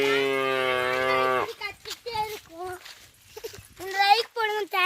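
A cow gives one long, loud, close moo on a hill trail, followed by chatter and other voices.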